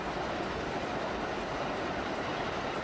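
A passenger train in a video game runs steadily, with a continuous dense rumble and rushing noise, close and even, with no voices.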